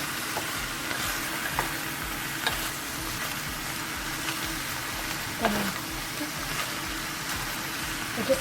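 Food sizzles in a pan for Bhutanese emadatshi of chillies and cheese while it is stirred, a steady close frying hiss with soft scraping and clinks throughout and light talking now and then.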